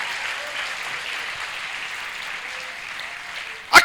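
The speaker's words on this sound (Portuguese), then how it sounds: "Pode dar uma salva de palmas ao Senhor, mas faz isso bem alto em nome de Jesus." Church congregation applauding loudly and steadily, a dense wash of clapping that holds even throughout, ending with a sharper burst of claps.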